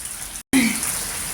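Heavy monsoon rain pouring steadily, a dense continuous hiss broken by a brief dropout, with a faint tone briefly rising above it.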